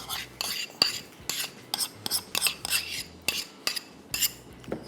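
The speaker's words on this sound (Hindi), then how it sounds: "मक्खन निकाल के इसको हमने वही तरीक़ाकार जो आम तौर पे होता है, इसको हम फेंटते हैं" Butter is beaten by hand in a bowl for chocolate brownies, making a rhythmic series of about a dozen quick scraping, slapping strokes, close and fairly quiet, with no talking.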